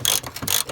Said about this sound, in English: So I'm just tightening up this top nut here.